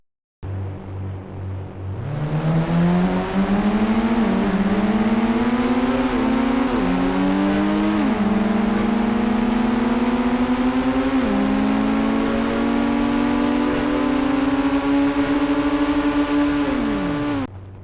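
Race car engines from a Nissan GTR and a Koenigsegg in the game Indian Bikes Driving 3D roar loud and close after a short idle, rising through several gear changes with stepped pitch climbs, then cutting off at the end.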